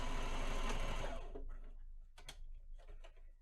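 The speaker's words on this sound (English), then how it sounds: "And then we're going to sew the other side." A sewing machine stitches down the second side of a fabric fashion mask, running loud and steady for about a second and a half, then giving way to scattered quieter clicks and taps.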